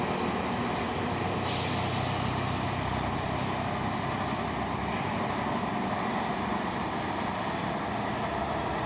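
A heavy Fuso trailer truck carrying a container rumbles loudly and steadily close by, with a hiss of air brakes early on, and no talking.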